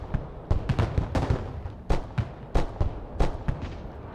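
Explosions and heavy gunfire from tanks and armored personnel carriers being destroyed in the military video game Broken Arrow, a dense run of loud booming blasts in irregular bursts, close and punchy.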